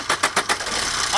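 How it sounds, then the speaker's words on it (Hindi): A car engine starts in a mechanic's workshop during air-conditioning service: a few quick, close starter cranks, then the engine catches into a steady run. "गाड़ी स्टार्ट करो"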